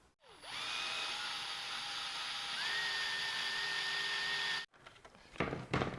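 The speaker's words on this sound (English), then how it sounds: "To get the letters out, all you need is a 7/32 drill bit because these are plastic welded in from the factory." Power drill with a 7/32 bit boring out the factory plastic-welded letters on a Ford Bronco grille, one long steady high whine that shifts pitch midway, then cuts off, followed by brief rattling handling noises.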